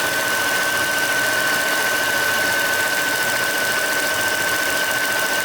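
A 2008 Mercedes CL550 V8 idles smoothly and steadily up close, with an even hum and faint ticking and no other sounds.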